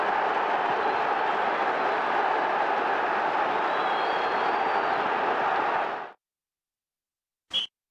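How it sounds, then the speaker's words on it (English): A simulated stadium crowd in a PlayStation football quiz game roars as a steady, loud, unbroken wash for six seconds, then cuts off abruptly, followed by silence and a short electronic beep. "The crowd are in their seats."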